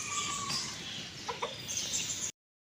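A rooster clucks in short bursts while attacking, fairly close, over a steady background hiss; the sound cuts off abruptly near the end.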